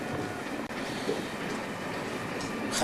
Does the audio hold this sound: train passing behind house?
yes